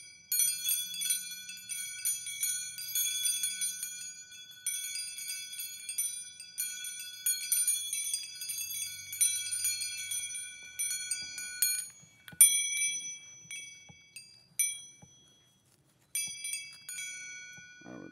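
Bells and wind chimes ring in clusters of bright metallic tones, overlapping strikes that shimmer and decay, then thinning toward single bell strikes with brief pauses near the end.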